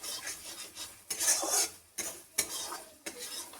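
Marinated chicken going into a pan of spice masala for a country-chicken curry, stirred with scraping utensil strokes and a low sizzle in several bursts, close and moderately loud, no talking.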